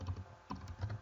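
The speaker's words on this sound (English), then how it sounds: "I was typing in the item box" Short burst of computer keyboard typing into an item search box while setting up a Pokémon Sun/Moon team, with several quick clustered keystrokes, close and fairly quiet, no voices.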